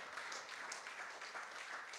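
A church congregation at a sermon bursts into brief, steady applause, many hands clapping together in a dense wash heard from a short distance.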